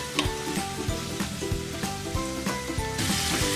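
Paneer cubes are stirred into a pizza topping in a hot pan on a tawa, giving a constant close sizzle broken by regular spoon scrapes, with a faint tonal hum in the background.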